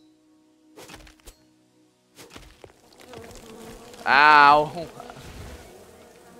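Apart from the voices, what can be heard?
bees buzzing in a video game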